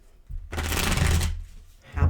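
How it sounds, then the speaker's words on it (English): Tarot cards are shuffled by hand in a close, crisp riffling burst of about a second, followed by a shorter second shuffle, with no talk. "I'm going to give it a couple shuffles."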